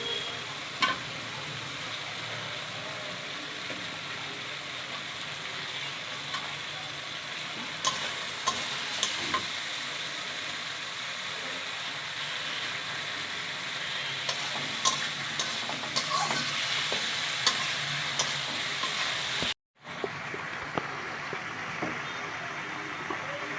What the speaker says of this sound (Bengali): দুটো তেজপাতা, তেল একটু ছেড়ে দিচ্ছে, এখন আলু দিয়ে আর একটু কষায় নেবে,